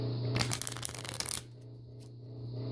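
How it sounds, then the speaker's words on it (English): A deck of playing cards gets a riffle shuffle, giving a dense, quick burst of fluttering card clicks for about a second before it stops and quiet follows, heard close and alone. "One of the best shuffles is a riffle shuffle, which is what I just did."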